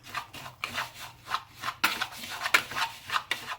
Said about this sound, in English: Now just use a whisk to blend that all together.